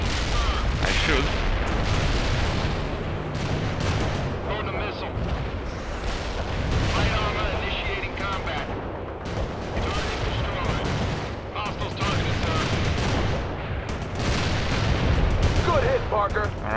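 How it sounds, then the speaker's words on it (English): Artillery barrage in the real-time strategy game World in Conflict, a dense continuous rumble of booms and crackling fire with overlapping blasts, loud and sustained throughout under voices speaking. "Fire mission received. Artillery barrage inbound."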